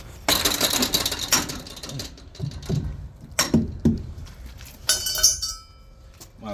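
A tool tapping and clinking on a truck tire to check inflation, several sharp close metallic knocks and clinks in scattered bursts with quieter gaps between them.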